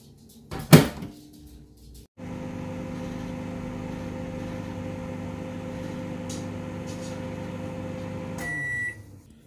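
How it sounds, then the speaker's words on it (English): A microwave oven heating raw dog food: a door clunk and button press, then a steady close hum of the running oven with turntable drone for several seconds, ending with a few beeps as it stops. "So I'll put this in the microwave just for a little bit."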